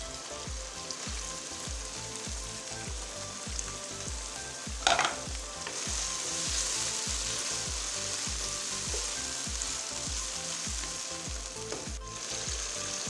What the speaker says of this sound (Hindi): कुछ सेकंड के लिए हमने टमाटर को भून लिया।